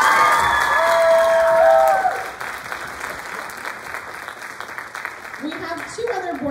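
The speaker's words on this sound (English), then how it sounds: "We have then one more round of applause" Audience applause and cheering at a student dance choreography show, honoring two retiring board members; loud clapping with whoops at first, then easing to lighter, scattered clapping as voices talk over it.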